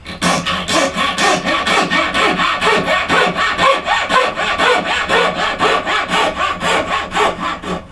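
Fine-toothed narrow-blade hand saw cutting down a tenon line in wood, a close rhythmic rasp of about a dozen even back-and-forth strokes, alone without talk.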